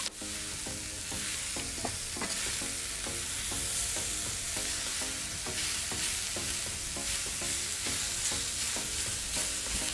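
Onion frying in oil while being stirred, with a continuous sizzle underneath and a run of rhythmic scraping strokes from the spoon, fairly soft and close, no voices.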